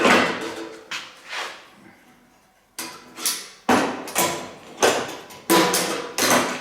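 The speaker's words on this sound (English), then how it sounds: "I'll take off the clamps" Clamps being removed from a metal panel during fabrication of a Mini Moke body, giving a series of sharp metallic clanks and knocks, about eight separate hits spaced irregularly, close and fairly loud with a quiet gap in the middle.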